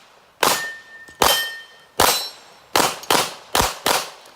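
Gunshots hitting a steel target at an outdoor USPSA pistol match, six sharp ringing clangs in an uneven rhythm, loud and clear, each with a short metallic ring.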